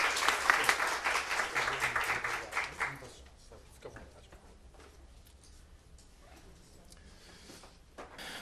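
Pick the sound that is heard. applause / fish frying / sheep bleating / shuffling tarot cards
applause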